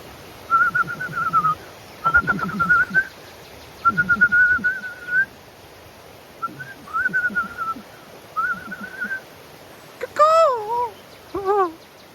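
A person imitating bird calls whistles a series of short rising calls, pausing between each, then finishes with a few warbling, swooping whistles.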